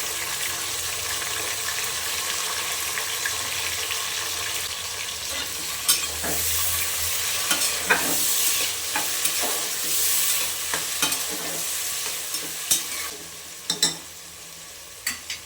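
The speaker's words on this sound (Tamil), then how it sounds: "வெங்காயம் வந்து நல்லா கோல்டன் ப்ரௌன் கலர் நல்லா குக் ஆகட்டும்" Chopped onions frying in hot oil for chicken biryani, a steady close sizzle with scraping stirs and occasional sharp clinks of the utensil against the pan, growing busier toward the end.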